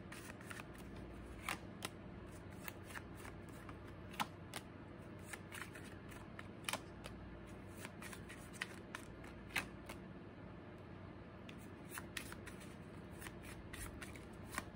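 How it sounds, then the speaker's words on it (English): Love Oracle deck cards shuffled for a reading, with a soft continuous riffling and scattered sharp card snaps throughout, quiet and close with no talking. "let's pull a couple more clarifiers from my Love Oracle deck"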